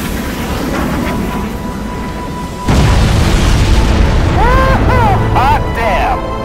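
Bombs explode in the video game Crysis with a heavy boom that swells mid-clip into a sustained rumbling roar, while voices talk over the blasts toward the end.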